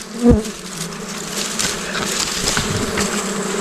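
Bees buzz steadily around a newly built wild honeybee nest hanging outdoors, a dense close swarm drone holding at an even loudness throughout, with a brief louder thump near the start and no talking.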